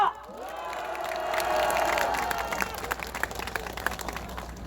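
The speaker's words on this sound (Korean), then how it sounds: "박수 한번 부탁드리겠습니다" A crowd at an outdoor election campaign rally in Gumi, South Korea claps and cheers together, a loud, sustained wash of applause with scattered shouts that tails off slightly near the end.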